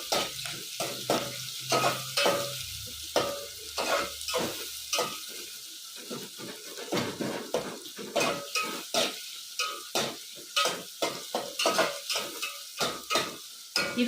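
Onions frying golden in a pan with a steady sizzle, punctuated by repeated scraping and clinking strokes of a spoon stirring them, close and clear with no talk.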